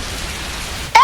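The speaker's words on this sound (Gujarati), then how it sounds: "આ કેટલો વરસાદ પડે જો ને કેટલો વરસાદ પડે છે" Heavy rain pours down in a steady, dense hiss that holds at one level, then swells sharply louder for a moment right at the end.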